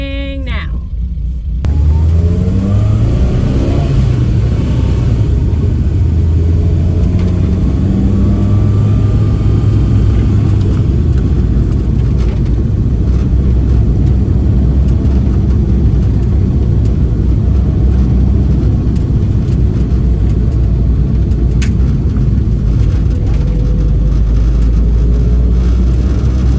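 A Toyota Corolla AE86 project drift car with manual steering starts up in a driveway, cranking briefly before its engine catches and settles into a loud, steady run with rising revs, close by and continuous throughout.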